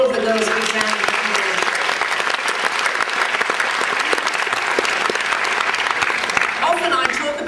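Audience applause at a Year 1 school end-of-year concert, dense steady clapping from a large crowd that holds for the whole stretch, with a few voices mixed in at the start and end.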